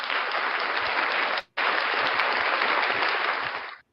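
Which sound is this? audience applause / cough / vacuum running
audience applause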